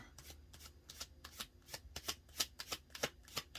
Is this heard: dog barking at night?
no